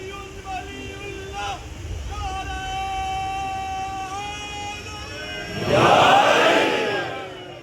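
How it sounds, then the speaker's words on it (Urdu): A crowd at a Muharram majlis raises a loud, surging chant of religious slogans, swelling late after a stretch of amplified talk and wind-like noise. "سلامت رہیں یہ نعرے لگانے والے، مولا ان کی آوازوں کو سلامت رکھے"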